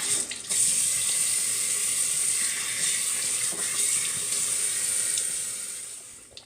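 Tap water runs steadily into a bathroom sink while a face is rinsed, making a close, even hissing splash that continues without pause before it tapers off at the end.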